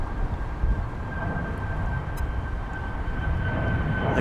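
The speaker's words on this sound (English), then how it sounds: "As you can see, that is an Alaska Airlines aircraft." A jet of Alaska Airlines rumbles at DFW Airport, a steady broad engine roar with a faint high whine, heard from a distance outdoors with no talking.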